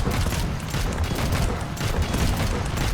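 Four explosive cannons fire from a vehicle in the Trailmakers video game, a loud, dense barrage of overlapping booms and blasts that continues without a break.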